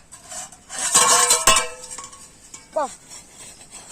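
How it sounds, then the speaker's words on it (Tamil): A lid goes over a clay pan cooking fish dosa in a village kitchen, producing a few close metallic clinks and clatters, a sharp ringing knock midway and a brief squeaky scrape, with light background noise. "இப்ப இதுக்கு மேல ஒரு மூடியை போட்டு மூடிக்கலாங்க."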